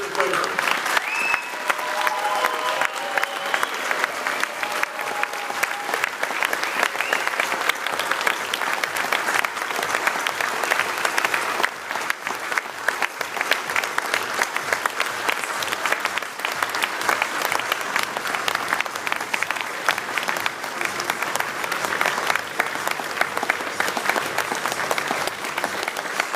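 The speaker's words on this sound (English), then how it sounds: "You're really applauding for yourselves," A large audience at a libertarian Hall of Liberty induction gives loud, sustained applause, dense, even clapping that fills the room for nearly half a minute with a few voices under it.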